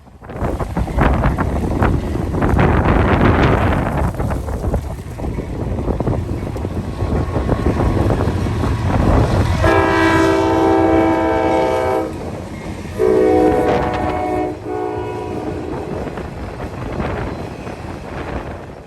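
Long freight train carrying truck frames and automotive cars rolling through on a very windy day, a loud rumbling roll buffeted by heavy wind noise, with two blasts of a multi-tone horn midway.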